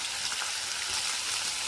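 Chili paste sizzling in hot oil in a home kitchen pan, a steady dense hiss of frying with no pauses, close and fairly loud throughout.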